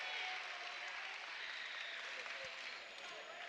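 Home crowd cheering and applauding at a high school basketball game between Shikellamy and Milton, a steady wash of clapping and crowd noise that fades slightly, with a commentator talking.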